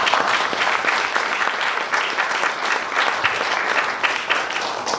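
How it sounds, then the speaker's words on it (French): Audience clapping loudly and steadily at a Congolese immigration commemoration ceremony in Saint-Josse, Belgium, a dense sustained round of applause from a crowd indoors. "Saint-Josse, à l'initiative d'Yves Bassambi, qu'on peut applaudir très fort,"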